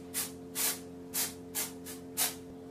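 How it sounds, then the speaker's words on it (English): A rough texturizing spray is misted onto hair in short hissing bursts, about six quick sprays in a loose rhythm over a low steady hum, close and moderately loud. "So I'm just gonna spray in a bit more of this."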